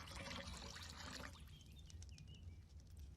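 Water summoned and poured in the Wurm Unlimited video game, a soft liquid splash and trickle over low background hum that thins out after a second, leaving faint drips.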